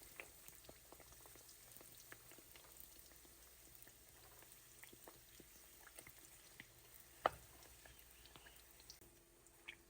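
Mandazi dough fries in hot oil with a soft, steady bubbling and crackling sizzle, faint and close, with scattered pops and one sharper spike.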